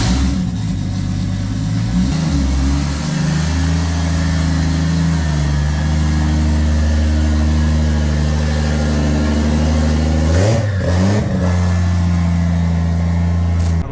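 A Toyota Supra Mk3 engine cranks over and catches, then revs up and down several times, loud and close, with a brief sharp blip near the end.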